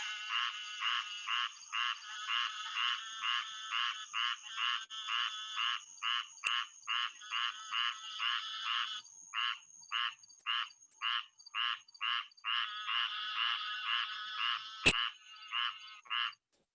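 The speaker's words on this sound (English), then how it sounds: "audio-wise a squirrel tree frog from a green tree" A squirrel tree frog calling, a long run of evenly spaced raspy nasal croaks repeating about twice per second, clear and moderately close, with a couple of sharp clicks and no talking.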